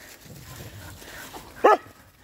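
A husky out on a walk with other boarding dogs gives one short, sharp bark close by, standing alone above quiet outdoor background noise.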